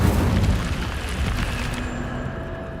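Incendio fire spell exploding in Hogwarts Legacy, a loud booming burst that rolls into a sustained rumbling roar and slowly fades.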